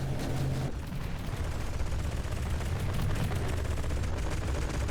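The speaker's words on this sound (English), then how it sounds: "The sound of the guns here is pretty beautiful." Battleship guns blasting in a continuous dense barrage during a naval battle in the game From the Depths, loud and sustained, with overlapping booms and no pauses or talk.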